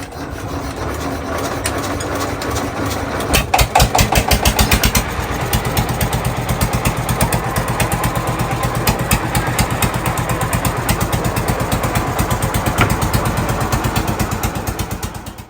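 A trawler boat's diesel engine chugs loudly close by in the Sundarbans, surging as it catches early on, then settling into a steady, rhythmic running throb.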